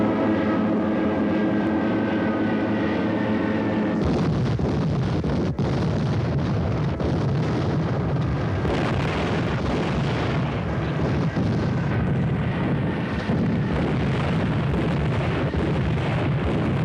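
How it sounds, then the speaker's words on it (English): Enemy aircraft attacking Pearl Harbor in a 1956 film drama: a loud, continuous roar of plane engines, then heavy explosions and gunfire blend into a dense, unbroken din. "The island of Oahu is being attacked by enemy planes."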